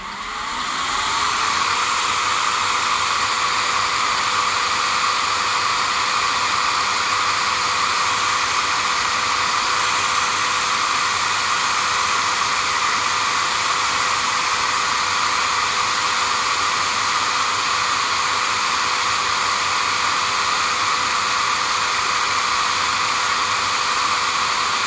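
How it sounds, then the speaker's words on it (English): Blower fans on a homemade smoker PID controller setup running as a loud, steady rushing hum close by, with no one talking. "You see, it's going to kick the fans on now."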